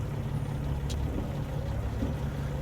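Caterpillar C15 truck engine idling in American Truck Simulator, a low, steady, rumbling diesel drone, fairly quiet and continuous with a brief faint click partway through.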